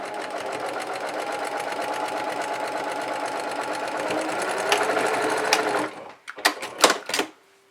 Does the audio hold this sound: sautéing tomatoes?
no